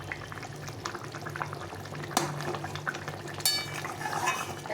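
A pot of Bengali fish curry with potatoes bubbling on the stove, a soft steady boil with occasional clinks of a utensil against the pot and a few sharper metallic knocks.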